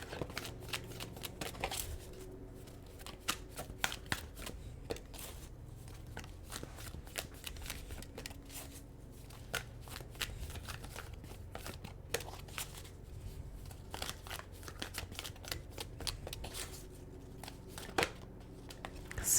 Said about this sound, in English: if I can get them to shuffle